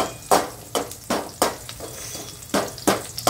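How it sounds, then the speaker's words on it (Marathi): Chopped garlic frying in a pan for chawali bhaji, sharp bursts of sizzling and stirring scrapes recurring every half second or so, close and fairly loud with no talking. "अजून त्याच्यामध्ये लसूण मी लाल करून घालते"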